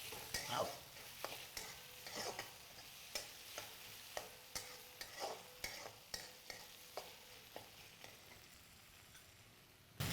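Onion, tomato, carrot, coarsely crushed ginger and garlic get stirred in a pan: quiet, regular scraping strokes repeat about every half second over a faint, steady sizzle, with no voices.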